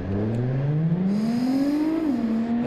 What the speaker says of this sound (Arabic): شغل المحرك، اسمع الطرب